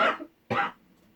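Two quick, close coughs, one right after the other, with a short pause between them and quiet afterward.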